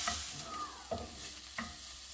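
Onions frying in a pan for brinjal bharta, a soft sizzle with a few stirring scrapes of a spoon against the pan, fairly quiet and steady.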